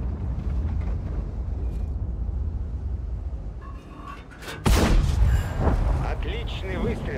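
Tank cannon fire in the World of Tanks video game with a T-100 LT light tank, a loud booming blast midway over steady engine rumble, with radio-style voice callouts in the game.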